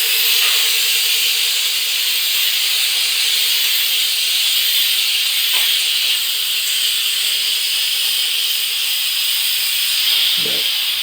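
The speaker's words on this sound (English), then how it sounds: "just blast it with a steam" A Silvercrest handheld steam mop from Lidl blasts a steady, loud hiss of steam that holds for about eleven seconds, with a few small clicks and knocks underneath.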